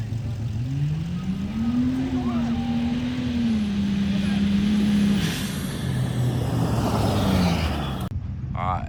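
The 6-liter Ford Excursion runs hard on a chassis dyno. Its loud engine drone climbs and holds at high revs, then eases off and drops away sharply at the end, close and dominant.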